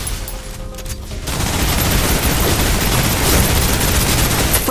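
Sustained heavy gunfire in the shooter Snowbreak: Containment Zone, a dense continuous roar of overlapping shots that grows louder after a quieter opening moment.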